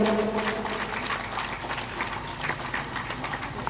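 Gathering at a spiritual discourse claps to welcome a guest, a scattered, uneven patter of hands from a modest crowd, moderately loud and continuous with irregular bursts.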